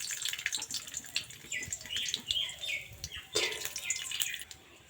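Peanuts frying in ghee in a pan for chirer pulao, giving a steady crackling sizzle with bursts of sharper spitting, close and moderately loud, no voices.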